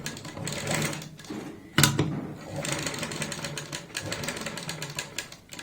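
A sewing machine stitches a high-neck kurti collar through buckram, running in rapid bursts with short pauses and one sharp louder clunk partway through.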